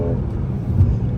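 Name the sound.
Lexus RC F engine responding to throttle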